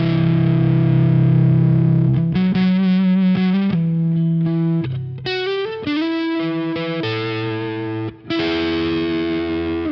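Electric guitar played through a Sunless Effects The Winter overdrive pedal set for thick tones, loud sustained distorted chords changing every second or so, with no talk.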